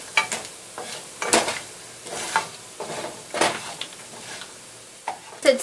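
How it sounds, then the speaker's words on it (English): Mustard seeds, cumin seeds and channa dal fry in hot oil in a pan for spicy tomato chutney, with intermittent clattering stirs and small pops at moderate closeness; no speech. "we're going to add some mustard seeds, cumin seeds, and channa dal. Just going to saute this for a few seconds."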